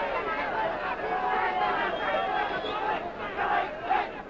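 Boxing crowd at the 1975 Jose Napoles vs John H. Stracey fight in Mexico City, a steady murmur with a few scattered cheers rising under continuous commentary.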